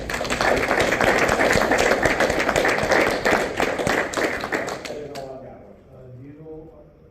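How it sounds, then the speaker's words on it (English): Attendees at a meeting give a round of applause, dense overlapping clapping for about five seconds that fades as a voice begins speaking. "I think he deserves a round of applause for that."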